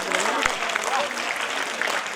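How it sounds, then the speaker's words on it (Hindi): An audience claps after a cultural performance at a school annual function, sustained clapping with a voice and some crowd noise mixed in. "तो जोरदार तालियां तो बनती है।"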